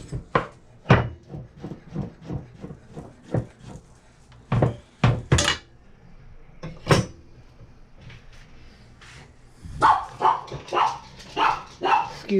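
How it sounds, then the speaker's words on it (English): A dog barks in a home kitchen, a series of sharp, loud barks and yips in irregular bursts, mixed with a voice talking and kitchen clatter. "Excuse the dog."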